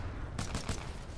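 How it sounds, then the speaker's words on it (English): G2 rifle fire in the video game Titanfall 2, three quick faint shots in a rapid burst over a quiet background. "I missed my shots with a G2."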